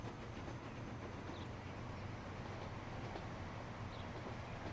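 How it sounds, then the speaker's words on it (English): A train in the Transport Fever game runs around a looping track, giving a steady, continuous rumble with a faint rail hum that stays even throughout, with no voices. "we'll kind of have a white train going on the clockwise loop and a black train going on the counterclockwise loop"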